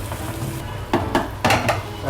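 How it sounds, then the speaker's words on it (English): Butter sizzling in a pan while cooking risotto, a steady crackling hiss broken by a few sharper spoon or pan knocks, close and fairly loud. "it should start to sizzle a bit."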